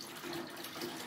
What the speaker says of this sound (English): I'm actually running some extra water in the bath now